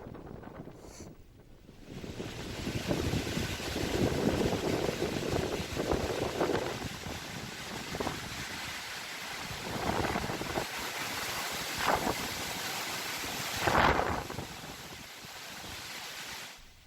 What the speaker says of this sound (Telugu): బాలసోర్, చండీపూర్ జిల్లాల్లో గంటకు 82 కిలోమీటర్ల వేగంతో బలమైన ఈదురుగాలులు వీస్తున్నాయి